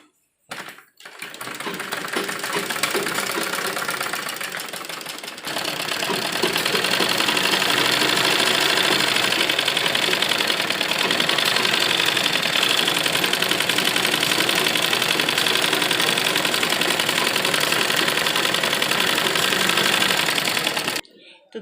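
A sewing machine runs fast and continuously, stitching a pressed seam along the edge of an embroidered blouse, with a short stop early on, loud and close, with someone talking over it at times.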